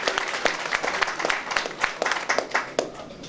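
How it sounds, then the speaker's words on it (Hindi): An audience at a Hindi kavi sammelan poetry gathering breaks into applause: dense, continuous clapping from a crowd, with sharper individual claps popping out through the steady patter. "एक बार जोरदार तालियां होनी चाहिए"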